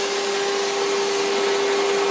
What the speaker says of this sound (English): It's really loud with the vacuum on.